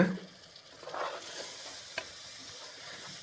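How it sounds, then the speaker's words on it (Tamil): Vegetable biryani masala with chili powder and half a lemon is stirred in a hot cooking pot, a soft sizzle under brief scraping stirs, with one sharper clink midway. "மிளகாத்தூள் ஒரு அரை லெமன் சேர்த்து நல்லா கலரி விட்டுறலாங்க"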